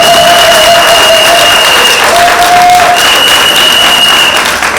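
Loud, dense applause from a large crowd at a political rally, running steadily and close throughout, with faint steady tones threading beneath it.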